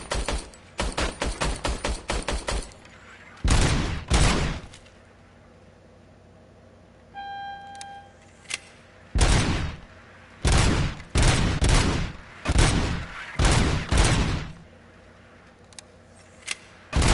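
A police service weapon fires in a video game in sharp bursts of shots. Rapid strings alternate with single cracks and short pauses, loud and close, with a brief electronic tone in the middle and no talk.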